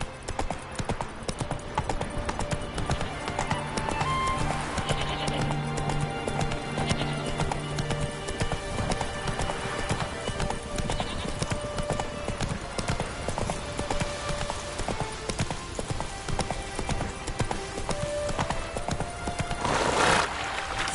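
A horse galloping with steady, rapid clip-clop hoofbeats throughout, punctuated by a neigh near the end, in the video game The Witcher 3: Wild Hunt on PS5, loud and continuous over a game soundtrack.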